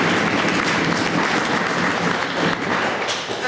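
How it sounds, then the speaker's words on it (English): An audience claps for two bakers at a wargaming event, loud and sustained with no pause across the whole stretch, no voices on top. "a round of applause to Emma and Lily for baking"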